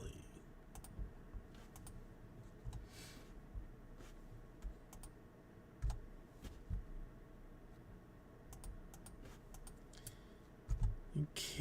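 Computer keyboard being typed on during a live stream, with scattered quiet key clicks and a few louder bursts of keystrokes over a low background hum.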